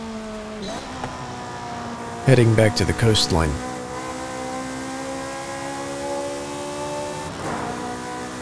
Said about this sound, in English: The car sound is intoxicating.